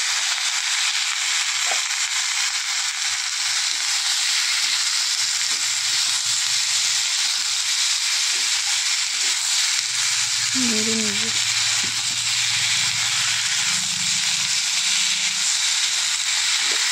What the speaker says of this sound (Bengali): তারপর আলু দিয়ে নিলাম, আলু দিয়ে কত করে নেড়ে নেব।